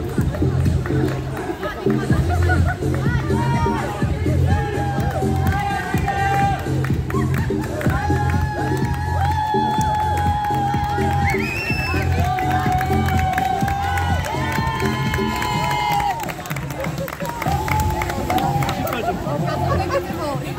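Crowd at a half-marathon prize giving cheering and clapping amid lively babble, with music and a loudspeaker voice running over the noise the whole time.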